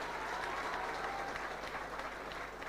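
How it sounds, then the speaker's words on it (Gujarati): Audience applause at a motivational speech event fills the whole stretch, a dense, steady wash of clapping from a large crowd without a break. "ખરેખર એમની મધર માટે એક જોરદાર તાળી પાડો."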